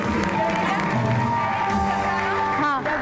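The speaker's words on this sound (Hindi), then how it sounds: "भाई तालियां बजाएं इनकी ढिठाई पे, जिस ढिठाई से ये झूठ बोल रहे हैं।" Studio audience applause and cheering fill the room steadily, a dense crowd wash with voices and whoops mixed in, loud and continuous throughout.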